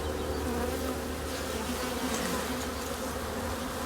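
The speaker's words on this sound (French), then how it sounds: "Pour ramasser le petit essaim." A small swarm of honeybees being collected in Provence gives off a dense, continuous buzzing, steady and fairly close, with no voices over it.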